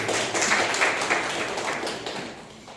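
Church congregation clapping loudly at a Sunday service, a dense, sustained burst of applause close by that gradually fades over a few seconds.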